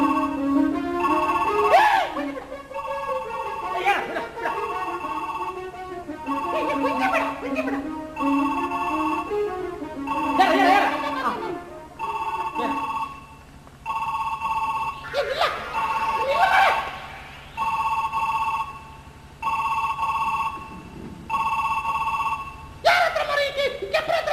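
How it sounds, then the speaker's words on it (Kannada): A mobile phone rings with a repeating electronic tone, coming in regular bursts of a few seconds each and broken by gaps, while people talk between and over the rings. "ಆವಾಗದಿಂದ ಮೊಬೈಲ್ ಫೋನ್ ಕಿಣಿ ಕಿಣಿ ಕಿಣಿ ಕಿಣಿ ರಿಂಗ್ ಆಗ್ತಾ ಉಂಟು"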